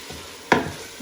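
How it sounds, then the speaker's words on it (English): Food for fio fio and achicha fries in a pan as a spoon gives one quick scraping stir through a low, steady sizzle, close and brief, with no voices. "Give it a nice fry"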